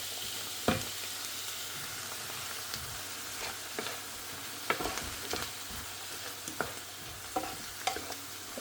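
Spiced food frying in a pan as it is stirred, a low steady sizzle broken by repeated scraping knocks of the spoon against the pan.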